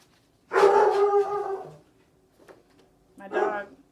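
A pet dog lets out a long, loud, whining bark close to the microphone, then falls quiet before giving a second, shorter bark.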